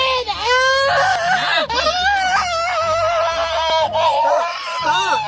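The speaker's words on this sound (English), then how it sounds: "Stop yelling." A woman yells and cries out in distress during an arrest, her voice rising into shrill, wavering screams and whimpers across several seconds, close and loud.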